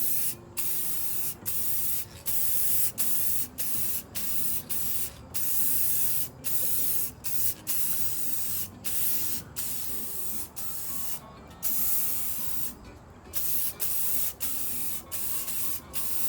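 Spray paint hisses in repeated short bursts as a silver coat goes onto a Checker Cab A4 rear luggage rack. Each burst is close and loud, with brief gaps between passes, and no voices.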